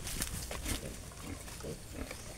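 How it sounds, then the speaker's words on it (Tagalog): Piglets on a pig farm grunt and oink in short, soft bursts, several overlapping nearby at a low level. "Ito na ang mga biik ni Pia."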